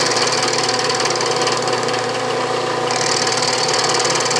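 Steady, loud grinding chatter of an end mill taking a light cut in metal for a Stuart steam engine build, a continuous machine roar with no pauses, close up and alone without talk.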